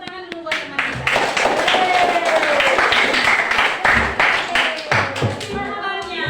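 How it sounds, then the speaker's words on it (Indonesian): Classroom applause for a fellow student: a group clapping in a sustained, dense patter for several seconds, with voices chattering over it and tapering toward the end. "tepuk tangan dulu buat teman kita"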